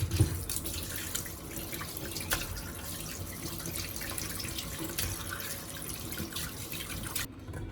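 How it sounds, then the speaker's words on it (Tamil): Cut quail pieces are rinsed under a running kitchen tap, a continuous splashing water stream with small clinks and drips, moderately close and steady until it cuts off at the end. "இதை வந்து நல்லா தண்ணி விட்டு கழுகலாம்."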